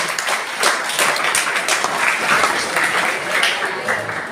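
Audience at a school program breaks into steady applause, a dense wash of many hands clapping with some voices mixed in throughout.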